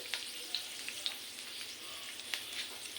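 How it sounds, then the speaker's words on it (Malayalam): Curry leaves with their stems sizzle in hot oil on medium flame, a faint steady crackle with a few sharp pops, close and quiet. "കറിവേപ്പില തണ്ടോട് കൂടി ഇങ്ങനെ ഇടുന്നുണ്ട്"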